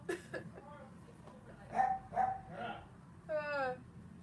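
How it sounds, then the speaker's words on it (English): A dog barks and yips a few times in short bursts, with a voice talking alongside and a steady hum underneath. "The barking was my dog, yes."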